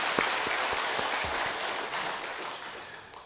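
A church congregation applauding during a revival service, with scattered claps at the start settling into a steady wash of clapping that fades slightly toward the end.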